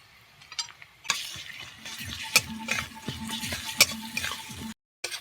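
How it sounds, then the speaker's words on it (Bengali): Garlic paste sizzles and fries in a hot pan while being stirred, with scraping spatula strokes repeating in an uneven rhythm over a steady crackle, close and fairly loud, ending in a brief cut. "এখন রসুন বাটাটা দিয়ে দেব"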